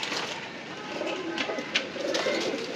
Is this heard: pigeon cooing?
yes